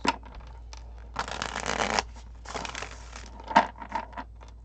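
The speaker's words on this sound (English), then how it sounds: "Let's shuffle these cards and get them out." Tarot cards being shuffled by hand, close and fairly quiet, with two longer riffling bursts followed by shorter scattered flicks and taps of the deck, no voices.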